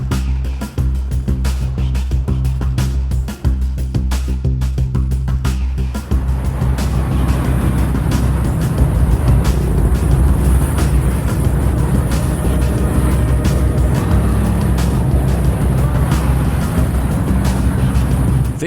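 Dense rush-hour road traffic on a bridge linking District 1 and District 4 in Ho Chi Minh City, a steady loud roar of engines and passing vehicles, with a rapid clicking rattle early on before settling into a continuous rumble.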